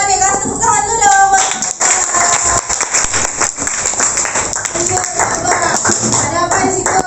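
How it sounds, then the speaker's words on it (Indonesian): A classroom of students claps hands together in a quick, busy patter of many overlapping claps, fairly loud and near, with voices mixed in underneath. "kasih tepuk tangan dulu dong"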